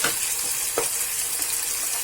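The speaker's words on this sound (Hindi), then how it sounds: "एक कटी हुई टमाटर ऐड करेंगे, इसे भी भून लेंगे।" Chopped tomato frying in a pan for onion bhindi gives a soft, steady sizzle with a few brief stirring scrapes, close and unbroken.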